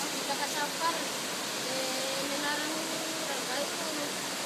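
The Lily waterfall in Madagascar roars as a continuous, broad rush of falling water, steady and full, while someone talks faintly underneath.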